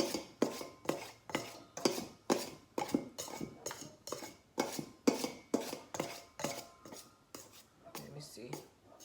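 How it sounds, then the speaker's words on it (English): A knife or utensil repeatedly chopping and scraping through butter in a bowl while making hard dough bread from scratch, a steady rhythm of close, crisp cuts with clinks against the dish. "Make sure I get this butter chopped up."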